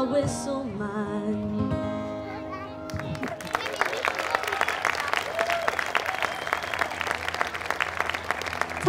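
A festival audience breaks into warm applause after a song, rising around three seconds in to dense, steady clapping that carries on to the end, following a sustained musical chord at the start.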